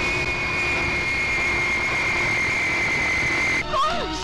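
An airplane taking off, a loud steady engine roar with a high whine that holds, then breaks off near the end into a brief shifting noise.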